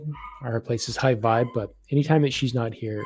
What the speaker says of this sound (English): I don't know if you guys can hear in the background, but we have a dog that we're watching here.